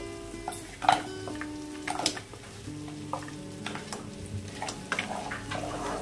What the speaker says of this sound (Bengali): এবার আমাদের ম্যারিনেট করে রাখা কাঁকড়াগুলো দিয়ে দেব।